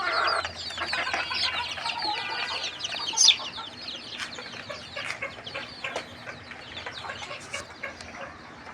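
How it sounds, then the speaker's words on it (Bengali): Farmyard chickens, a rooster among hens, cluck busily and overlap close by, with one sharper squawk rising briefly over the steady clucking. "এই মোরগ"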